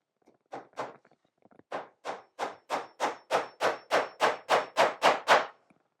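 A 1.5 inch nail is hammered into a wooden beehive floor with a few light taps and then a steady run of about a dozen sharp, evenly spaced hammer blows, close and clear, with no talking.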